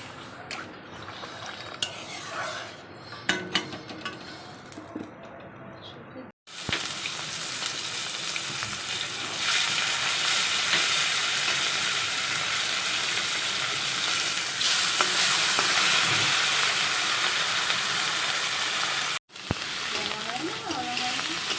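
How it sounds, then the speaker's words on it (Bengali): Potatoes and spices sizzle loudly in a hot pan, a steady hiss and crackle with occasional stirring scrapes; a voice speaks over the first few seconds before the frying continues alone. "আলু দিয়ে মশলাটা এখন কষা হচ্ছে"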